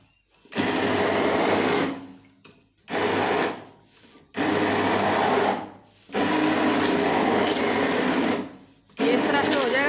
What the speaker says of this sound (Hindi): थोड़ा सा ग्राइंड करेंगे।